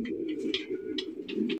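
Racer pigeons cooing in a loft, several soft repeated coos over a steady low hum, close and fairly loud with brief chirpy accents.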